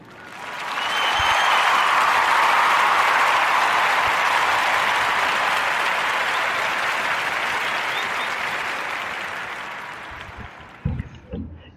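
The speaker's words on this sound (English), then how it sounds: "give a warm Narrative Podcast round of applause for that sister" A warm round of applause from an audience swells up within a second, holds loud and continuous for about nine seconds, then tapers off with a few last scattered claps.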